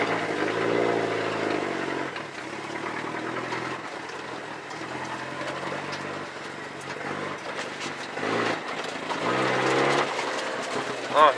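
The engine of a 1983 Ford Ranger runs after a cold start, giving a steady, close, mid-pitched idle hum with a rough texture and slight swells in level, with no talk over it.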